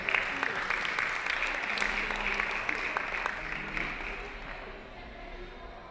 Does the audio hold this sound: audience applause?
yes